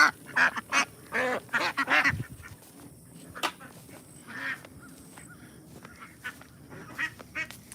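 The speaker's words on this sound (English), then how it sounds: "Got all the ducks over here." Ducks on a farm quack and honk in loud, close bursts that crowd together at first, then come as scattered, quieter calls with pauses between them.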